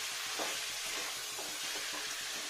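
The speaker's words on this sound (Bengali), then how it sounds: "চালটাকে ততক্ষণ ফ্রাই করবো যতক্ষণ একটা সুগন্ধি বার হবে বা চালটা একটু ফাঁপা ফাঁপা হয়ে যাবে, ততক্ষণ পর্যন্ত নাড়া দিতে হবে" Rice and bay leaves frying in a pan, a steady dense sizzle with faint stirring scrapes underneath, close and continuous with no voices.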